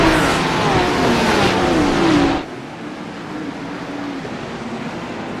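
GT3 race cars in a sim racing game roaring as they accelerate off the start toward turn one, a loud dense engine rush for about two seconds that cuts abruptly to a quieter steady engine drone.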